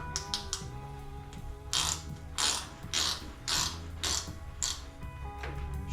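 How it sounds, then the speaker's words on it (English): A ratchet wrench clicks in quick, uneven bursts while loosening a bolt on a widebody turbo Mazda Miata, the pawl ticking close and clear with no talking. "when I loosen this bolt up"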